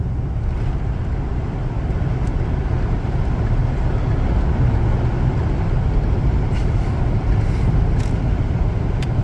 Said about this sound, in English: set the cruise control in a good, proper, high-speed Southwestern highway cruise